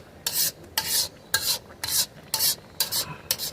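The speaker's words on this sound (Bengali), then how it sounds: "বারবার করে নাড়াচাড়া করে করে রান্না করতে হবে আমাদেরকে।" Rhythmic scraping strokes of a spoon stirring carrot halwa with milk in an uncovered pan, about seven close, regular rasping passes with short pauses between, no voices.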